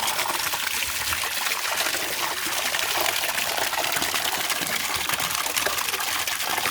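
Water gushes steadily from a borewell pipe outdoors, a continuous, full rushing stream that stays loud and even throughout, with no voices.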